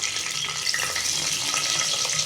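Onions and green chillies fry in hot oil in a pressure cooker with bay leaf and cinnamon, a dense, steady hiss of sizzling heard close and alone.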